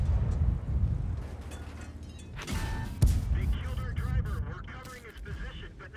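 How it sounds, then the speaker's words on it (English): A tank's ammo rack detonating in World of Tanks, a heavy boom and crackling blast rising at about two and a half seconds over rumbling engine and battle noise, with a voice talking through it. "Oh, the Challenger ammo racked us."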